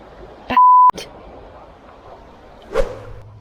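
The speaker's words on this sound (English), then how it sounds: "that's the alarm for the end of the session" A single short electronic alarm beep marks the end of a fly-fishing session on a UK river for grayling. It sounds clearly against quiet riverside ambience, framed by soft swishing and a later brief rustle.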